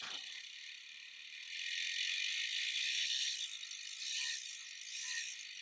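A small electric motor driven by a B-G431B-ESC controller board whines with a high, buzzing, slightly rattly tone that swells louder as it speeds up, close and alone with no talk.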